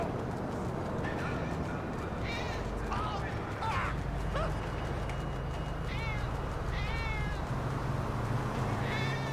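Cat meows from an animal-transformation mod in GTA 5, several rising and falling cries scattered over a dense, steady game background with speech running throughout.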